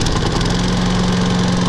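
A John Deere JS35 walk-behind lawn mower with electric key start runs loud and close, its small engine holding a steady low hum with a constant drone and no talk.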